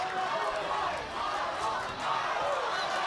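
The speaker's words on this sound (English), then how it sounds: "You heard this crowd getting excited." An arena crowd at a women's combat-sports fight cheers and roars excitedly in a loud, sustained swell that surges and dips, with a commentator's voice running underneath.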